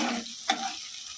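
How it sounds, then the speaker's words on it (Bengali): Tomatoes stirred and frying in a pan for chicken tikka masala, a soft sizzle with one brief scrape, close and quiet. "আগে একটু টমেটোটা দিয়ে নেড়ে নিই, একটু ভাজা হয়ে যাবে।"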